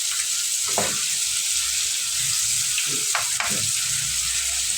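Water poured into a pan of frying onions and meat sets off a steady sizzle, with a few brief bursts of bubbling and stirring scrapes, close and continuous with no talking.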